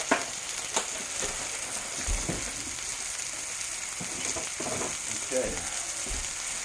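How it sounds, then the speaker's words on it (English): Maple sausage frying in a pan with a steady close sizzle, broken by intermittent scraping and clicking of a utensil stirring, and a brief word spoken once. "Now the sausage is cooking pretty good."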